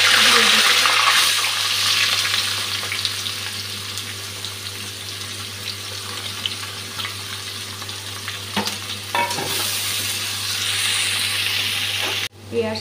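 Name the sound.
onions frying in a pan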